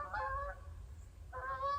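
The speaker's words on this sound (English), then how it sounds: "Canadian geese." Canada geese give two honking calls a second apart, faint and distant, with a quiet pause between them and no talking.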